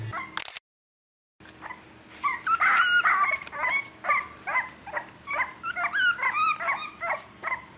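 Several dogs bark, growl and whimper in quick, overlapping bursts after a brief silent gap. The barks are loud and close and keep up a busy, uneven rhythm.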